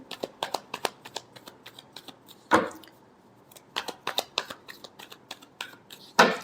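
Tarot cards are shuffled by hand in quick riffling bursts, crisp and close, with short pauses between runs and a couple of louder slaps as the deck is squared.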